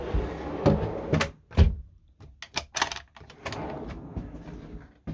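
Fridge door in a EuraMobil Integra i890QB motorhome opening and closing, with close clicks, latch snaps and soft thuds in quick bursts, some faint handling noise between.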